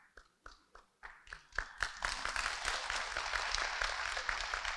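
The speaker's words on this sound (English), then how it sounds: "a very astounding round of applause" Audience applause at a fire department awards and recognition ceremony, starting with a few scattered claps that quickly swell into sustained, dense clapping from a large crowd, close and loud.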